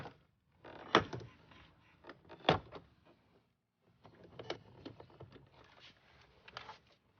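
Door panel clips on a Mercedes S550 W221 are pried loose, giving a couple of sharp plastic pops among quieter clicks, rustling and scraping, faint and close.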